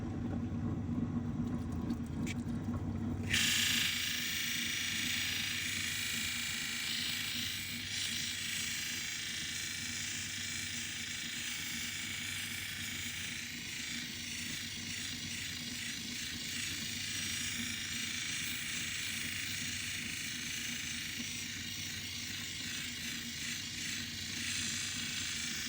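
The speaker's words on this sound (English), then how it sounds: "let's polish the next wheel and get that cerium oxide on the end" A lapidary polishing wheel loaded with cerium oxide shapes a Spencer opal, giving a steady, continuous machine hum and rumble after a brief, louder rustle at the start.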